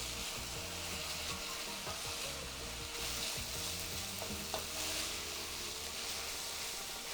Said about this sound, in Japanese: 最後はこの水分を飛ばすように中火で3分ほど炒めていきましょう